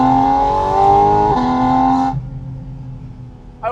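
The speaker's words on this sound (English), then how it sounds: "It's intake's definitely louder, for sure." A sports car engine sounds from right behind the seats, its intake loud with a strong harmonic drone that shifts pitch once, then cuts abruptly to a quieter idle rumble before a brief rev returns at the end.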